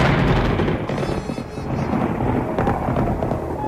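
Thunder rumbles continuously in a Korean radio drama, a loud, dense roar that swells and rolls without pause for several seconds, with no voices over it.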